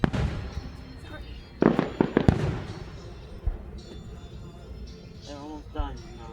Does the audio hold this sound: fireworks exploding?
yes